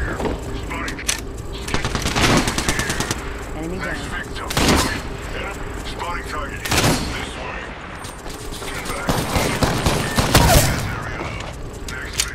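Bursts of gunfire from an Apex Legends or Fortnite battle royale match, several loud volleys spread over the stretch with game effects and voiced announcements between them.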